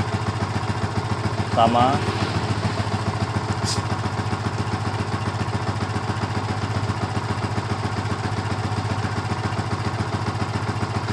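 An old Yamaha Vixion motorcycle engine idles steadily up close with an even, rapid thrum throughout, and a voice briefly speaks over it.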